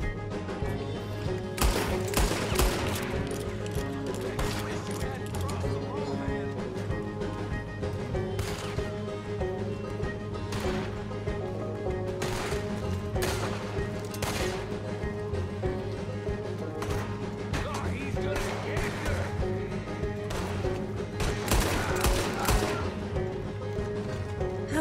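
Gunfire in the video game Red Dead Redemption 2: sharp shots crack out irregularly, alone and in small clusters, over a constant game backdrop of music and ambience, with a denser volley near the end.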